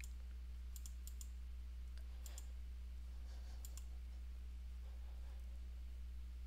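Small, faint clicks of a computer mouse in scattered pairs and singles over a steady low electrical hum, close by and quiet.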